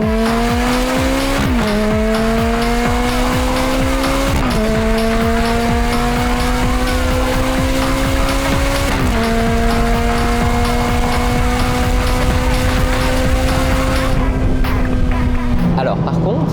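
A tuned, remapped Ferrari F430 revs hard through its gears, the loud, close engine note climbing repeatedly and dropping at each sharp shift before easing off near the end.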